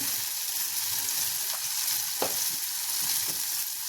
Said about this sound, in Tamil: தக்காளி போட்டு நல்லா வதங்கி இப்போ நம்ம இப்போ பேஸ்ட்டு போட்டாச்சு